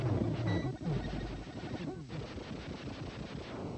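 Dense gunfire and explosive blasts from the Robo-Insect boss fight in a video game, heavy rapid bursts that stay loud and continuous throughout.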